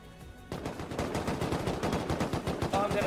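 Rapid automatic gunfire in the video game Rust, a dense burst of loud shots starting abruptly after a short pause and continuing to the end.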